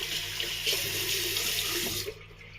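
A tap runs steadily into a sink as a shaving razor is wetted down, a close, continuous splashing rush that cuts off abruptly near the end.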